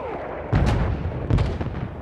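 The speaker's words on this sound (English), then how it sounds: "There was an artillery gun that was shelling us and Matteo's unit." Artillery shelling in Battlefield 1 gameplay lands as two heavy, booming blasts about a second apart, loud and near, each with a rumbling tail.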